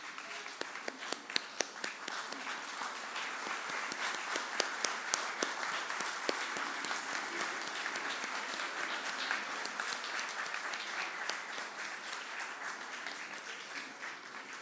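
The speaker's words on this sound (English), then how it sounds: "May we give them a standing ovation" A standing ovation for a group of musicians fills the hall with sustained, dense applause that stays steady and fairly distant, with a few sharper claps near the start and no talking over it.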